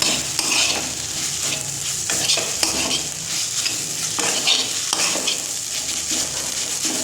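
A spoon scrapes and stirs a dry curry frying in a pan, with steady sizzling under repeated close metallic scrapes and clinks against the pan, no voices.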